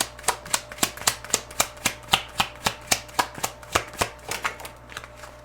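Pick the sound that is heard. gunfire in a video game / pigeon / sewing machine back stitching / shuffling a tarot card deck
shuffling a tarot card deck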